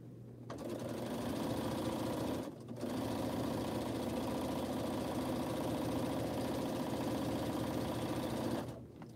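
A sewing machine stitches a crumb quilt block, running in a steady, loud, close whir with two brief pauses.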